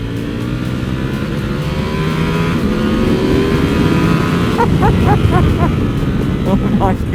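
A Ducati Monster 1200 motorcycle accelerating hard on a back road, its engine roaring loud and close with rising pitch and steady wind rush throughout.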